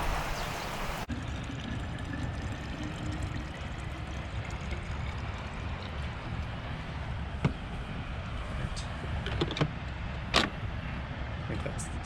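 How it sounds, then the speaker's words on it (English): A carbonated water maker hisses and rumbles steadily while carbonating Japanese spring water, with a few faint clicks and taps toward the end. "using our friend Kosei's carbonated water maker"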